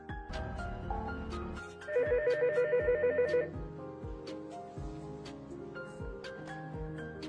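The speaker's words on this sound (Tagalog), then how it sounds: "Tawagan mo na si Luktan" A telephone rings indoors after a call is placed, a steady repeating electronic ring pattern heard fairly quietly over a soft background music bed, with no talking.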